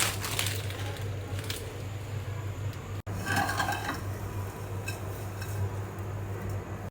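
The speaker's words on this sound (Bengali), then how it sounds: "আমি আগে একটু ঘি ভেজে নিই সেমাইটা" Vermicelli frying in ghee in a frying pan, with steady scraping and clattering of a utensil against the pan over a soft background hum, close and continuous, with no talk.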